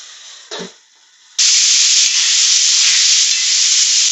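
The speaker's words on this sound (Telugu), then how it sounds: "వంకాయలు కూడా వేస్తున్నానండి బీన్స్ కూడా వేస్తున్నాను" Brinjal and beans go into a hot pan for navaratna curry, raising a sudden loud, steady hiss of sizzling oil that continues to the end after a brief quieter rustle.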